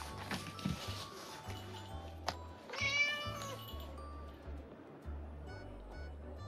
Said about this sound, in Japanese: 迷子の猫かな。